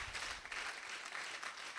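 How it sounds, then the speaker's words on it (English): Continued applause from an audience for Professor Faborode at a research office event, a dense wash of many hands clapping steadily and moderately loud for a couple of seconds. "If you did, please clap for him."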